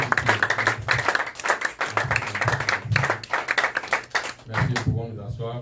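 A church congregation claps together in acclamation during a worship service, dense and continuous rhythmic applause from many hands filling the room, with voices mixed in before it fades out at the end.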